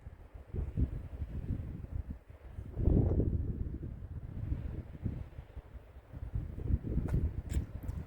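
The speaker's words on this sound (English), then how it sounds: "there's the wind" Wind gusting outdoors on a rocky hillside hike near a rock wall in Wells, Nevada, a steady low rumble buffeting the microphone, swelling louder around the middle and again near the end, with no talk.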